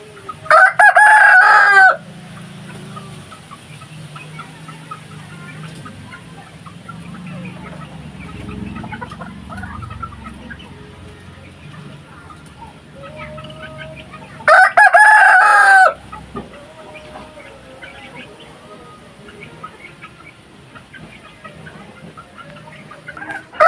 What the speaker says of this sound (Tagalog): Kain ng mga manok.